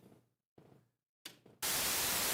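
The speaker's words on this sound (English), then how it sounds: "That's the pink noise." A steady burst of pink noise from a Behringer Odyssey synthesizer switches on after a few short muffled knocks and holds evenly to the end, loud and hissing.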